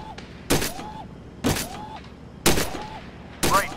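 Four loud, sharp gunshots from the VR shooting game Gun Club VR, evenly spaced about a second apart, each followed by a short ringing tail and a small metallic ping.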